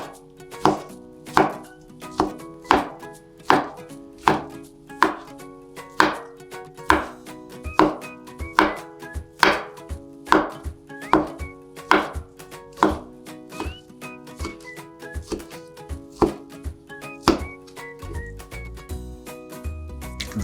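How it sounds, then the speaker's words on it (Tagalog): Knife chopping siomai into small pieces on a board, a steady run of loud, evenly spaced chops, about one per second, continuing alone with no talk. "Hiwain lang natin to ng maliliit."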